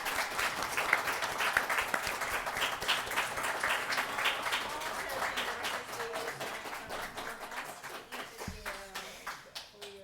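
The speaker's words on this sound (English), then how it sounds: "Well, a big round of applause." An audience at a talk on Ukraine claps in a steady round of applause that thins out toward the end, leaving a few scattered claps.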